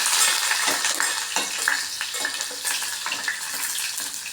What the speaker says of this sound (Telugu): ఇవి వేగిన తర్వాత ఉల్లిపాయలు వేస్తున్నాను